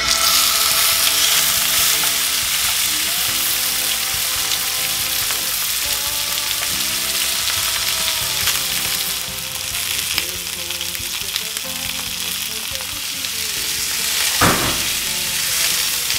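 Pork tenderloin sears in hot neutral oil, a loud, steady sizzle and crackle running unbroken from start to finish, with one brief sharper clatter near the end and no talking.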